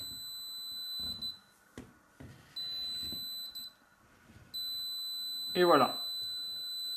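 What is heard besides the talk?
material detector beeping while scanning wall for rebar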